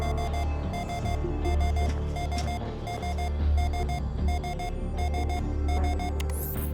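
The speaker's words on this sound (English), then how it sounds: "Why is my proximity alarm going off this far out?" A spaceship proximity alarm in Ostranauts sounds as rapid repeating electronic beeps in regular bursts over a low ship hum, loud and steady throughout with no voices.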